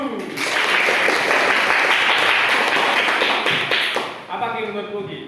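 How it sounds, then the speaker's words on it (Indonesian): Loud applause from a class of students fills a classroom, a dense burst of clapping lasting about four seconds before tapering off, with a voice briefly speaking as it ends. "tepuk tangan untuk Zaki dulu"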